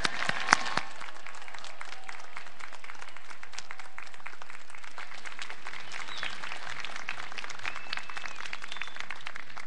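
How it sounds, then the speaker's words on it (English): Graduates at a university graduation ceremony receive a sustained round of applause from a large audience, a dense, even wash of many hands clapping that holds steadily for about ten seconds. "Let's give the graduates a round of applause,"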